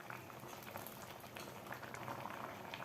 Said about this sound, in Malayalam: ഇനി ഒന്ന് തിളക്കണം